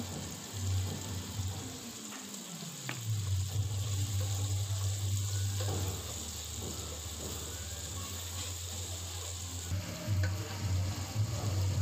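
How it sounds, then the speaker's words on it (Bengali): Spices fry and sizzle in a pan and are stirred steadily, giving a continuous close sizzle with scraping of the stirring spoon and a watery, bubbling hiss throughout. No one speaks. "এখন ভালো করে মশলাটাকে কষিয়ে নিব"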